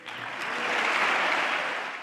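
Applause fills the chamber of Congress during a State of the Union address, a dense, sustained wash of clapping from a large crowd that swells and then begins to fade.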